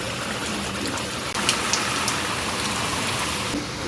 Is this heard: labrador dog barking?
no